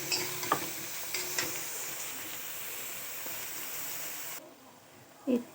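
Onions frying in a pan for Bengali pulao, a close steady sizzling hiss with a few light clicks of stirring, cutting off abruptly near the end before a brief clatter.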